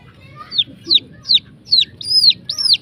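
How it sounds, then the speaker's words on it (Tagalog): A lone chick trapped in a corner peeps six times in a steady, evenly spaced series of sharp, high chirps, close and clear over a faint low rumble of background noise. "May sisiw nakapasok dito oh."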